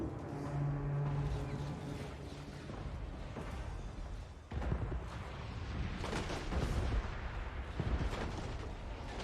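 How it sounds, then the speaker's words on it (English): Organ gun volleys and artillery fire in a Total War: Warhammer 2 battle: dense, rumbling booms and crackling shots roll on throughout, with heavy blasts near the middle and toward the end over a tonal backdrop. "That organ gun, I think it's trying to hit the Blackguard"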